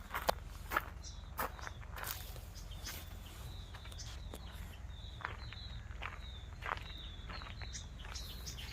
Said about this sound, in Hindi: यहाँ आपको शोर सुनाई देगा तो बस पक्षियों की कलकल मधुर ध्वनि का सुनाई देगा।